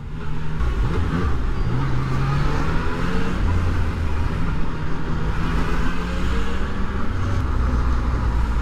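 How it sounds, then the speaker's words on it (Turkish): Steady road traffic noise with a continuous engine drone and rushing wind, loud and close, as vehicles move along at speed. "Buradan niye trafik başlıyor ya?"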